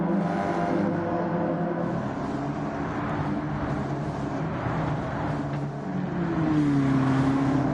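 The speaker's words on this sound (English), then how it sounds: "Love the sound of these cars." Stock race cars run in a pack on a racetrack, their engines making a continuous loud droning roar that swells slightly near the end, with no talking.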